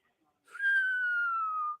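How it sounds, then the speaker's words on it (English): An auctioneer at a classic car auction whistles one clear sustained note for just over a second, slowly falling in pitch, close and alone against a quiet background. "Me whistling this time."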